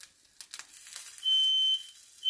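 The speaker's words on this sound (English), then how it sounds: "The smoke alarm's going off." A shrill smoke alarm, set off by cooking smoke, sounds in two loud, piercing beeps, the first long and the second starting just as the sound ends, after a moment of faint rustling.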